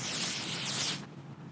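A close, steady hiss of Over Makeup Super UV Factor 50 sunscreen spray lasting about a second, then cutting off to quiet.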